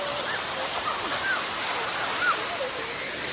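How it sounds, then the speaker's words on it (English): Dark Hollow Falls, a waterfall along Skyline Drive in Virginia, roars as a loud, continuous broadband rush of falling water with bird chirps faintly over it. "What do you think about the waterfalls, Peter?"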